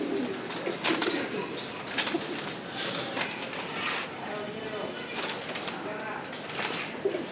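Kept pigeons, a male and a female among a fancier's favourite birds, coo in the background under continuous talk, with some rustling and wing flutter amid a busy, noisy surrounding.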